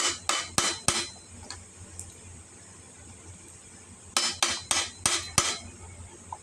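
A pure aluminum ladle clanks against a pot of chicken feet rice soup in two quick bursts of four or five sharp metallic knocks, separated by a quiet pause, close by with no talking.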